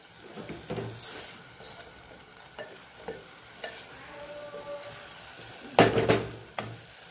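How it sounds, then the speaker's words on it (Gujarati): Soaked rice is gently turned into vegetable pulao in a pot, giving soft scraping stir strokes over a light sizzle, with a louder spoon-on-pot clatter near the end. "ભાત આપણા પલાળેલા છે એટલે હળવા હાથે જ આપણે એને ફેરવશું એટલે આપણા ચોખા ભાંગી ન જાય"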